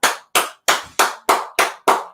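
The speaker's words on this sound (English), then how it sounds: "Please give a round of applause for Isaiah Ford." Seven sharp, evenly spaced claps about a third of a second apart, close and crisp with nothing else around them, given as a round of applause for a Miami Dolphins player who made the 2020 53-man roster.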